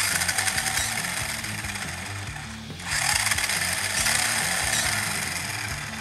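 A 1987 Tamiya Hornet RC car runs on its original electronics, its electric motor giving a loud, continuous buzzing whine that dips briefly midway, then surges back and holds steady.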